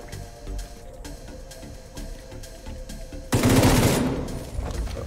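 Gunfire in the video game The Division 2: faint, evenly spaced shots at first, then a loud, dense burst of rapid automatic fire that carries on to the end.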